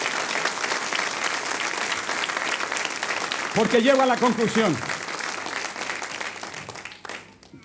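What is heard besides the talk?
congregation applause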